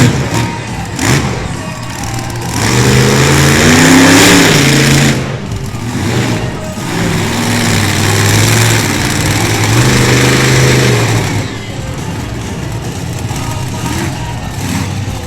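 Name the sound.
race vehicle engine revving, wheelie on back tire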